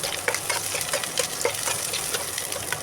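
Red amaranth greens hit a hot pan with onion and green chilli, giving a continuous loud sizzle broken by scraping stirs and small knocks, with no voices.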